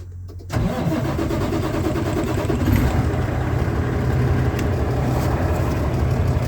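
A truck engine cranks and catches after a brief quiet moment, then runs in a loud, rough, steady rumble close by with no one speaking.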